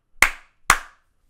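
Two sharp, isolated hand claps about half a second apart, close and loud in a quiet room, used to trigger a Clapper sound-activated switch.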